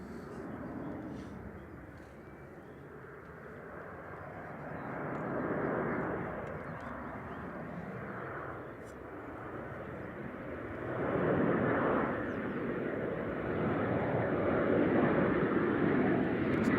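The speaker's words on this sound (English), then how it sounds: "the one straight towards us is the 757" A Boeing 757 approaches Manchester Airport, its jet engines a broad, rising roar that swells and fades over the length of the clip, heard from a distance outdoors with no one talking.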